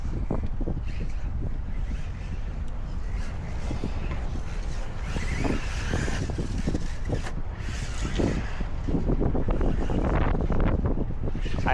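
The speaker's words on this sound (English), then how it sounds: "Wind caught us there." Loud, gusty wind buffeting the microphone outdoors while a TLR-tuned Arrma Typhon RC car runs nearby, broadband roar swelling and dipping across the whole stretch with faint motor whine and bumps beneath.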